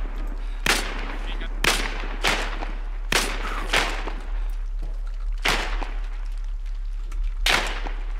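Sharp gunshots crack out in a video game firefight, about eight loud separate bursts spaced roughly a second apart over a low steady background hum.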